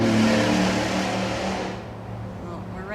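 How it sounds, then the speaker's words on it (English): Morning traffic on the nearby Veterans Memorial Expressway, a steady broadband roar of passing vehicles that fades slightly toward the end. "we're right next to the Veteran Memorial Expressway, so that's what you're hearing, morning traffic"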